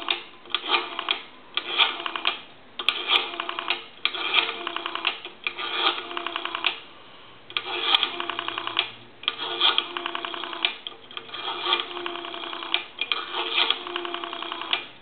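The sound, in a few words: dialing numbers on a payphone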